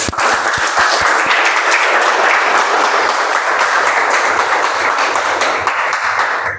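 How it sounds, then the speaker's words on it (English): An audience applauds at a Toastmasters club meeting, loud dense clapping that starts with a few distinct claps and swells into sustained applause lasting several seconds. "Let's have a huge round of applause for both of them."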